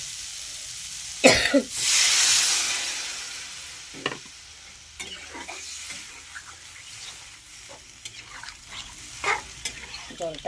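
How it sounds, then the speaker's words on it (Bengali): Water poured into nearly fried spice paste for a thin rohu fish curry with green banana and drumsticks, giving a loud hissing sizzle that swells and fades, followed by intermittent stirring scrapes and a few soft coughs. "মশলাটা আমার প্রায় কষানো হয়ে গেছে এবার আমি দিয়ে দেবো এর ভিতরে জল"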